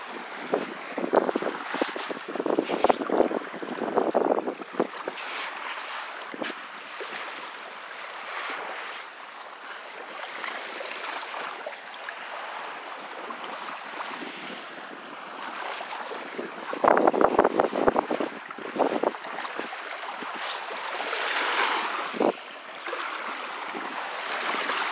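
Lake Michigan shoreline at Indiana Dunes State Park on a calm day, gentle waves washing and splashing near the microphone amid steady wind noise, loud and continuous with no talk.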